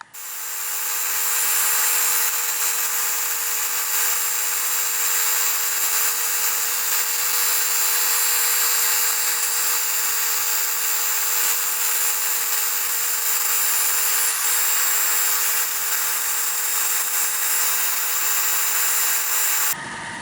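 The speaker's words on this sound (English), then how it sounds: "So once I've ground the four surfaces that I'm grinding here, the inside and outside on both halves" A steel straight razor blade is ground on its inside and outside surfaces, giving a loud, continuous, bright grinding hiss with an underlying motor hum that runs steadily for about twenty seconds.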